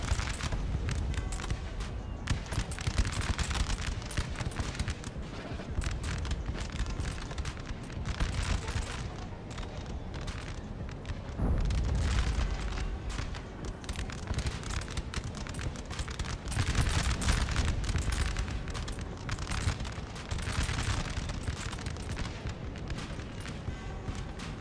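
Napoleonic battle in Napoleon Total War, with booming cannon artillery and crackling musket volleys rolling continuously, dense and loud, shots overlapping in waves across the whole stretch.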